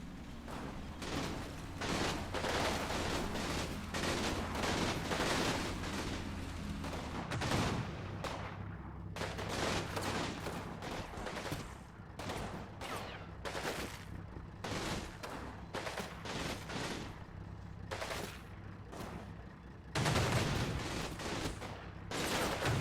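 Final Blitzkrieg war game: repeated bursts of gunfire and heavy shots crack out in rapid irregular volleys over a steady rumble, loud and close with no talk.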